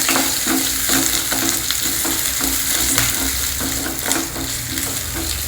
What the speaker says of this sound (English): Fry them also in the oil.